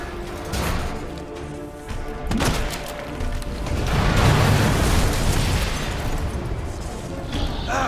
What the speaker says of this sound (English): No, that's a flashbang.